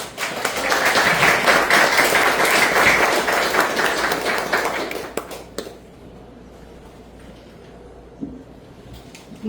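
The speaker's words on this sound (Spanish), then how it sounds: "Le damos un fuerte aplauso." An auditorium audience at a constitutional law conference applauds loudly for about five seconds, the clapping dense and sustained before cutting off to a quiet room with a few faint noises.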